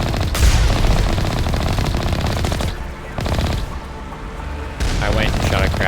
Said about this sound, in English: I went and shot a crab.